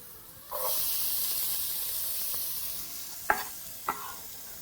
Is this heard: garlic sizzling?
yes